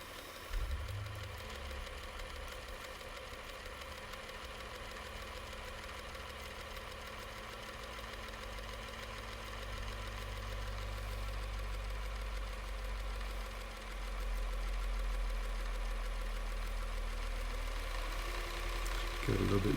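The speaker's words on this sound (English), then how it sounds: "As you can see down here, everything's still working and we're winding a bobbin." A JACK industrial straight-stitch sewing machine winds a bobbin with a steady, low motor whir and buzz that rises slightly in speed partway through. The sound is faint and continuous.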